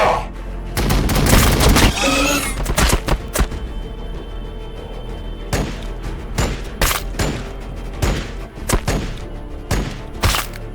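Battle gunfire in Warhammer 40,000: Battlesector, with a heavy burst of shots and booms up front, then scattered sharp reports and thuds at irregular intervals, loud and close, with a voice briefly heard amid the action.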